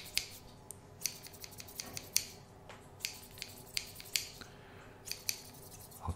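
Scissors snip and rub repeatedly at close range, a series of short crisp clicks and scrapes spaced irregularly over a quiet background.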